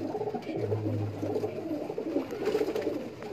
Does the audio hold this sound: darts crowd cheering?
no